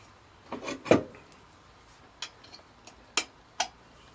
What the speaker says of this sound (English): Tighten it up.